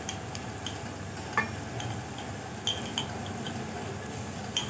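Garlic ginger paste sizzles softly in a pan of frying masala with tomatoes for a cauliflower curry, a steady hiss broken by a few light clinks of a spoon stirring.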